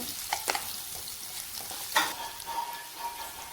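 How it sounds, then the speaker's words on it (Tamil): Chopped onions sautéing in a pan, a soft steady sizzle with a few sharp scraping clicks of a stirring spoon, fairly quiet and close, no talk. "கட் பண்ண வெங்காயத்தை பேனில் சேர்த்துக்கோங்க நல்லா வதக்கிக்கோங்க"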